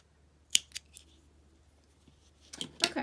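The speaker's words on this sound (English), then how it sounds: "now we can weave this in and cut off the tail." Scissors snip a crochet yarn tail. A few quiet, close cuts come in short clusters separated by near silence.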